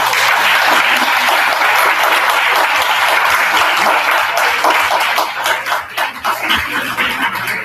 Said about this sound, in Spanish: vamos a agradecerle a ambos por un fuerte aplauso